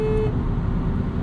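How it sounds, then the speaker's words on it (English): Horn of a 2016 Volkswagen Jetta SE with a 1.4-litre turbo engine, one short honk of about a third of a second sounding over a steady low car-cabin rumble, with no talking. "Here's what the horn sounds like."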